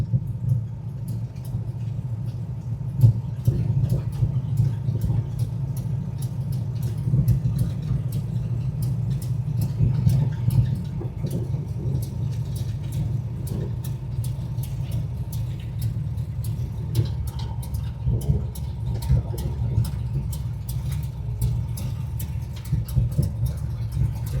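A 1967 Dodge Coronet R/T 440 two-door hardtop with its V8 running, a steady deep low rumble with a slightly lumpy idle pulse, close and continuous, with no talking.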